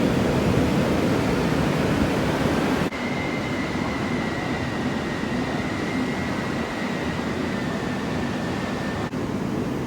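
An MTR train pulls into the platform at Tsim Sha Tsui Station on the Central-bound line, a steady loud rush of rolling noise with a thin whining tone running through the middle and sharp breaks at the start and finish.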